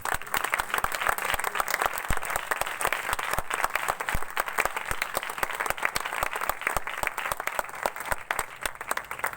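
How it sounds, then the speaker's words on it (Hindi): An audience at a church gathering led by a pastor in Youhana Abad breaks into sustained, dense applause, many hands clapping steadily and loudly for several seconds with no break. "इस पाक कलाम के लिए जोरदार तालियां दें"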